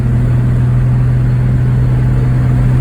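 A car engine running steadily at raised revs during a transmission shift test, a loud continuous drone with no talk over it.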